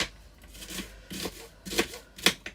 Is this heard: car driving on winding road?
no